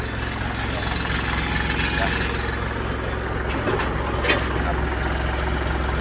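A 36-horsepower L3608 tractor engine idles close by, steady, smooth, low and even throughout with no sputtering, and a faint voice in the background.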